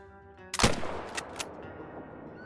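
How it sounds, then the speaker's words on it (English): A single sharp, loud rifle shot rings out in the hunting game Call of the Wild, aimed at a bedded bobcat roughly 185 yards off, its report rolling away in a short echo with two faint tail cracks after. "We should be able to go for a perfect shot if we hold it right above the heart"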